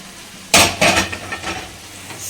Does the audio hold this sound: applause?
no